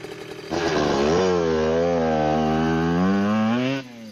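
A motorbike engine revs up sharply, then holds a loud, steady drone for about three seconds before cutting off, close and alone.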